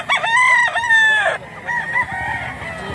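A bulik gamecock, about two years old, crows nearby in one long rising call that drops off after about a second and a half, followed by quieter farmyard noise.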